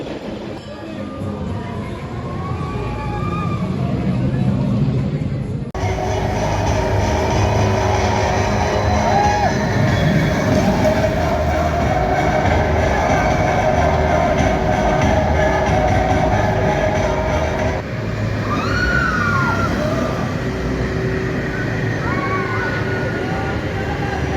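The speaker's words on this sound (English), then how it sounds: "first ride of the day was a front row ride on Icon" Ride on the Icon roller coaster at Blackpool Pleasure Beach in the front row: a loud, steady roar of wheels on track with rushing wind, rising squeals and riders' shouts and chatter throughout.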